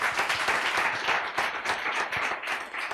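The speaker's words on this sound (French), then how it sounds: "On applaudit pour lui." Lively audience applause for a guest introduced at a business event, bursts of close clapping with an uneven, rippling rhythm over the short stretch.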